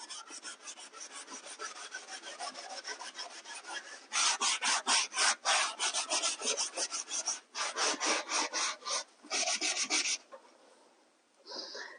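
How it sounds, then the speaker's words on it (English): Steel wool scrapes excess wax off a wooden furniture piece in a series of loud, rhythmic rasping strokes, several quick back-and-forth bursts with short pauses, close up. "I'm moving my steel wool as I go because as I go in and scrape up the excess wax, it's getting on the piece of steel wool"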